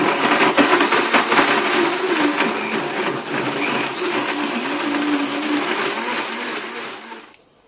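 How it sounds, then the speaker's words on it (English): Blender running on high, whirring through a marshmallow smoothie of banana, yogurt and whipping cream, a loud steady motor roar with churning, grinding texture that holds for several seconds before shutting off abruptly at the end. "Now blend this on high for 60 seconds"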